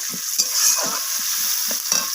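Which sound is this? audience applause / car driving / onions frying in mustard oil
onions frying in mustard oil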